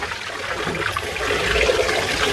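Water from a kitchen tap runs over wheat being rinsed in a pot, a continuous near splashing hiss that grows a little fuller halfway through, with no voices.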